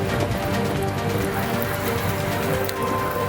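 Sudden heavy cyclone rain pours over a waterlogged city road in Mangaluru, a dense, even, loud hiss of water striking the surface without pause.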